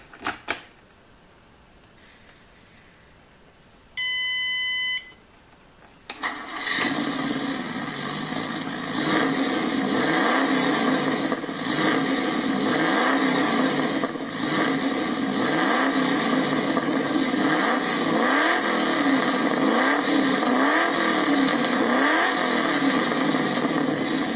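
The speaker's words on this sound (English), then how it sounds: "I've got keys, so let's start the engine and check it out." A 2009 Ford Mustang engine turns over and catches after a few seconds of near-quiet with a short tone, then settles into a loud, steady, throbbing run with repeated rev swells for the rest of the clip.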